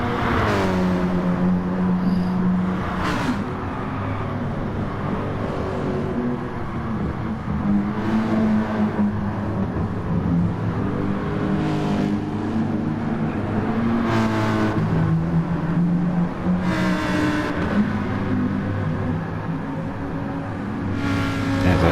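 A race car engine in a racing video game roars continuously at full throttle, the pitch climbing and dropping through repeated gear shifts, with brief whooshes of other cars such as a Lamborghini passing close by.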